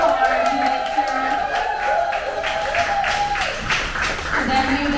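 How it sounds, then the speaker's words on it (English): Bar-crawl crowd on a cruise ship cheering and clapping for bar staff on a nautical-themed pub crawl, a lively stretch of applause mixed with chatter and a sustained tone over the crowd. "Give it a round of applause to our lovely bar staff."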